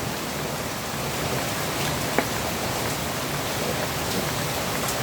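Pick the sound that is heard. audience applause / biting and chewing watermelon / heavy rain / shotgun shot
heavy rain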